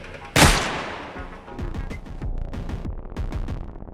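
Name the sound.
gunfire in the video game Darktide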